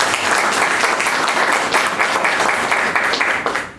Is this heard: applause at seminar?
yes